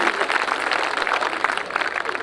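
Audience clapping fills a Hindi kavi sammelan poetry gathering at Seawoods, a dense, steady wash of many hands applauding throughout, fairly close and even in loudness.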